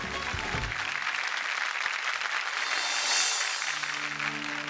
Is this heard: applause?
yes